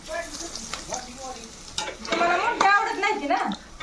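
Pieces of fish fry in hot oil, crackling and sizzling close by, with someone talking over the frying throughout.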